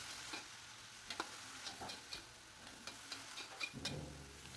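Tempeh being stirred with sweet soy sauce in a frying pan for a nasi uduk dish gives faint sizzling under soft scraping stirs, with intermittent light clicks of the utensil against the pan.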